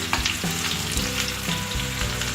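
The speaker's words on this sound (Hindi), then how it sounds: "एक कप ऑयल डाला है इसमें मैंने। प्याज डालकर ब्राउन कर लेने हैं।" Onions frying in a cup of oil for masoor dal, a steady dense sizzle that fills the clip with a few soft stirring knocks, close and continuous with no talking.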